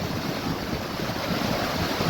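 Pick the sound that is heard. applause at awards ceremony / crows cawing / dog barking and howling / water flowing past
water flowing past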